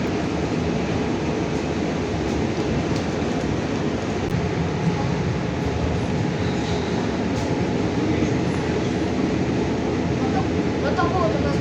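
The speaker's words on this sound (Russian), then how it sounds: "Ну что ж, вот мы и в поезде." Steady rumble and rattle from inside a moving passenger train on the way to Nizhny Tagil fills the whole stretch at an even, fairly loud level, with no break.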